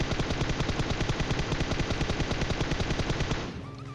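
Rapid automatic gunfire in PUBG Mobile, a loud unbroken burst of evenly spaced shots for about three and a half seconds, then cutting off abruptly to quieter game sounds.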